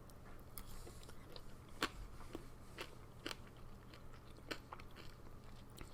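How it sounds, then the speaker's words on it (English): Close, quiet crunching bites of fried food, like fish and chips, with a few sharp crisp snaps spaced irregularly over a low steady background hum. "Crunchy sounds."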